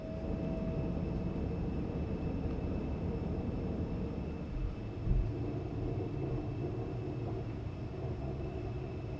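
Embraer ERJ175 airliner in X-Plane 12 climbing after takeoff with its landing gear retracting, a steady loud engine roar with a low rumble and a brief thump midway, no voices.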